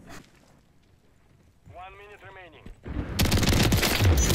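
Rapid bursts of gunfire in Call of Duty: Modern Warfare, building loud and dense near the end after a brief lull, with a player's voice talking over the action.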